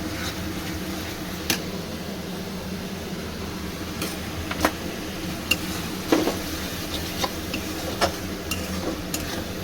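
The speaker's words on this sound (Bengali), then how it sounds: "ভালো করে নেড়ে নেব।" Chicken rezala with cumin powder being stirred in a pan, a soft background sizzle broken by scattered light scrapes and clinks of a spoon against the pan, with no voices.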